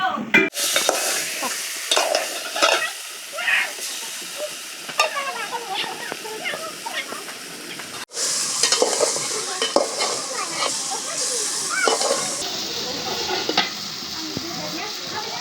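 Duck meat with chili powder and turmeric sizzles steadily in oil in a pan while it is stirred, with continuous frying crackle and occasional scrapes of the utensil against the pan.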